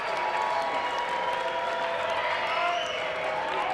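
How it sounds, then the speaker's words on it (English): An audience at a Shamrock FC mixed martial arts event applauds steadily for two fighters after a bout, a dense, even wash of clapping with some cheering, sustained throughout. "Let's give both of these fighters a big round of applause."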